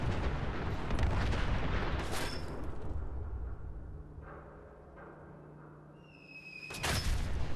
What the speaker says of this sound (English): Why is there a massive explosion?